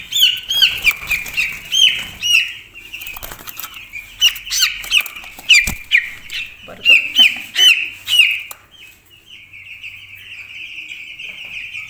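Broiler chicks squawk and cheep loudly in a close, busy burst while wings flap in quick flurries as a chick is lifted onto a scale for weighing; the chirping thins to a steadier peep near the end.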